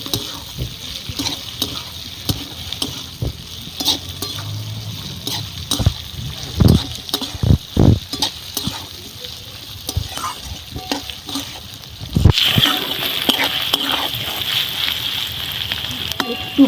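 Chopped tomatoes lightly frying in a pan while being stirred, a continuous sizzle broken by repeated scraping and clattering strokes, growing louder and brighter toward the end, with a voice talking intermittently.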